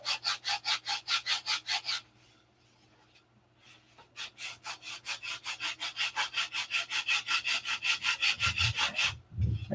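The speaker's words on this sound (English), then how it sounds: "So first I grind in the angle, get it down close to the line, and then we're going to shape it to an airfoil." A piece of wood is ground down to an angle and shaped into an airfoil with rhythmic back-and-forth abrasive strokes. A pause comes after the first two seconds, then a longer, steady run of strokes over a low background hum.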